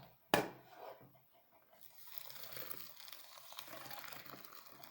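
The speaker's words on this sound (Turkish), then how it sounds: "Ondan sonra sıcak su ekliyoruz." After a sharp knock, hot water runs into a bowl of fine bulgur with salt, a soft steady pour that is fairly faint and close.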